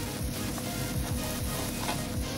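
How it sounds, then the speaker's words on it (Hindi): Vegetables for aloo tikki fry over a high flame, giving a steady, close, dense sizzle that runs without a break, with faint stirring scrapes mixed in. "3 से 4 मिनट के लिए हम इसे भूनेंगे।"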